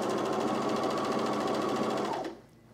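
A coverstitch sewing machine runs steadily while stitching a straight 3/8 inch seam on camisole fabric, a close, even mechanical whir that stops abruptly near the end.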